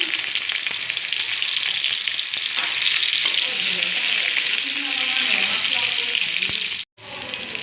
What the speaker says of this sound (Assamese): এয়া পিঁয়াজ এইখিনি অলপ ৰঙচুৱা কৰি ভাজি ল'ম